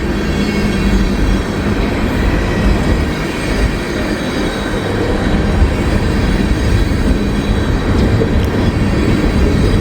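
A train rolls past on the tracks, loud and close, with a constant dense roar of wheels and rail noise that holds steady for the whole stretch and has no pauses.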